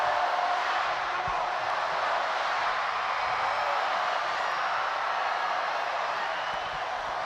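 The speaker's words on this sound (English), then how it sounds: "Let's listen to the crowd." A stadium crowd at a baseball game featuring the Savannah Bananas in Kenan Stadium, heard as a broad, continuous roar of cheering voices that stays steady and fills the space.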